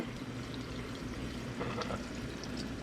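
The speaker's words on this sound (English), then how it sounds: "So I'm putting in my water," Water pours quietly into a container in a soft, steady stream for a few seconds, close by and faint.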